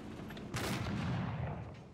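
A heavy Russian tank's main cannon fires in War Thunder Ground Forces, one deep booming shot at about half a second with a rumbling tail that fades over the next second and a half, heard alone without talk.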